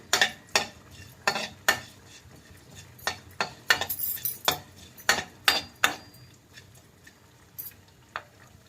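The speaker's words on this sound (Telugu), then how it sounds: "ఇందులోకి కొంచెం జీలకర్ర రెండు స్పూన్లు ధనియాలు ఇవి వేయించేసుకోవాలి" Whole cumin and coriander seeds dry roasting in a kadai on the stove, heard as a run of sharp metallic scraping and tapping strokes from a spoon against the pan, fairly close, in an irregular rhythm with quiet gaps and no talking.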